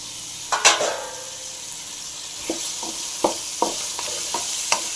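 Green chillies fry in a pan for a pirandai (adamant creeper) chutney, giving a steady close sizzling hiss broken by several sharp spatula scrapes and clicks against the pan.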